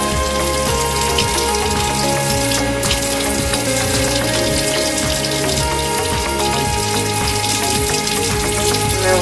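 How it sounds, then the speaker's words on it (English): Tap water runs steadily and loudly from a faucet into a sink while someone wets their face, a continuous splashing hiss with no speech. "So we're gonna wet the face."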